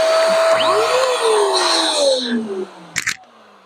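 An electric balloon pump runs with a loud, close motor whine whose pitch sags as it winds down and stops, followed by a couple of brief clicks in near silence.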